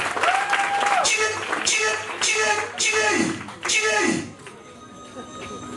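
Wedding guests applaud the couple with a loud, sustained burst of clapping that swells in several waves, with voices and cheers mixed into the crowd noise.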